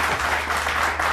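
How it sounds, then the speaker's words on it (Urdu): Studio audience applause on a Pakistani weekend talk show, a steady dense wash of clapping filling the whole short stretch at moderate loudness. "بہت ساری تالیاں."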